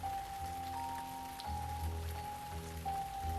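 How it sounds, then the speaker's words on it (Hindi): Heavy rain pouring down, a constant dense patter on surfaces with a steady tonal hum running underneath, heard alone with no talking. "बारिश भी तो देखो कैसे जोरों से हो रही है।"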